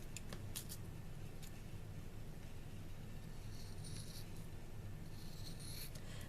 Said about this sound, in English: Rubber's not the easiest to cut, and my scissors are getting old.